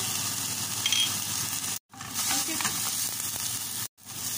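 Onion and garlic sizzle steadily in a hot pan for fried rice, a dense, even crackle with faint stirring scrapes, broken by two brief dropouts.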